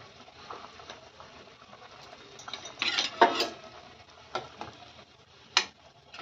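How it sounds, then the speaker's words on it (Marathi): Salt is stirred into a curry with lentil vadas in a pot, giving a few soft scraping and clinking strokes of a spoon, loudest midway, over a quiet background with no talk. "त्यामुळे मीठ बेताने घालायचं आणि मिक्स करून घ्यायचं."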